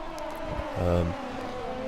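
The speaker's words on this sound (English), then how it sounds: "he's going for an overtake, and Kevin Magnussen does the overtake" Formula 1 race cars overtaking in the video game F1 2020 produce a brief rising engine whine over a steady drone, peaking for a moment near the middle of the short stretch.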